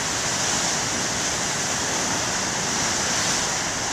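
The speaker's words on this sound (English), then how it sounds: "I'll say the waves are pretty damn sexy today too" Big ocean waves breaking on shore, a steady loud wash of surf and spray filling the whole stretch with no pauses or voices.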